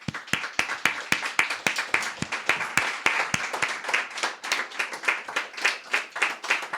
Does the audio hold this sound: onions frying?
no